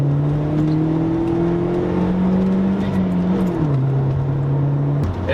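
A car engine with a big turbo inlet pipe revs steadily and close, a droning whir that climbs slightly, then dips in pitch and drops off sharply near the end.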